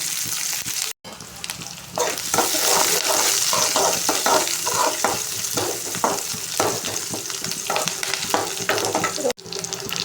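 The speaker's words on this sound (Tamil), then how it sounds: "இது கொஞ்சம் பொன்னிறமாக ஃப்ரை ஆகட்டும்" Chopped onions and curry leaves fry in oil in a pan, a loud, close, continuous sizzle broken by brief scraping stirs, with a short sharp cutoff near the start and end.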